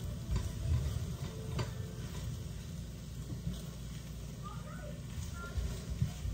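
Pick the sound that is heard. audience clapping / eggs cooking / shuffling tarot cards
eggs cooking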